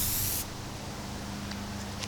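An aerosol can of Plasti Dip sprays onto a panel in one short, loud hiss lasting under half a second, then cuts off to a quiet room hum with faint small clicks.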